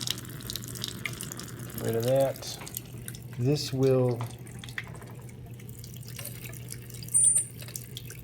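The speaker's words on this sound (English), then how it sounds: "I'm going to run some water." A lab sink tap runs water near the microphone, its flow splashing and trickling steadily while a person speaks briefly over it.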